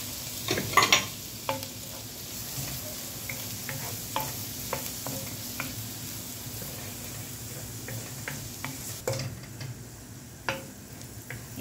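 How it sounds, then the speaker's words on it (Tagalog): Butter melts with finely chopped onion frying in a pan, a soft, quiet sizzle broken by scattered clicks and taps of stirring, with no talk. "Ayan guys, patunaw na yung ating butter."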